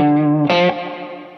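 An electric guitar played through a light spring reverb preset: a sustained chord abruptly shifts to a brighter strum midway, then rings out with a soft, lingering reverb tail.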